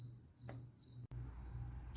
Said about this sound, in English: I apologize for the crickets.